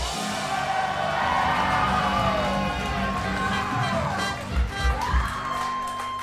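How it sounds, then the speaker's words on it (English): A comedy club audience at a live Kill Tony taping roars with cheering, whoops and shouts, a dense sustained crowd noise with a few louder bursts near the end. "Why the fuck are people cheering for that?"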